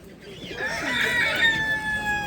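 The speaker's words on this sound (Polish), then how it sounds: "Tu jakieś kurki są." A chicken calls nearby at a small livestock market in Lublin, Poland, a short drawn-out crow with clucking tones, heard alone over faint background.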